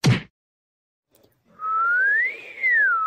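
A person in an Assamese cartoon whistles a signal: a short burst, a pause, then a long rising and falling whistle with a brief break, clear and close.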